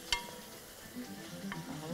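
Onions sauté in a pan with a soft, steady sizzle, and a couple of faint clicks come from stirring.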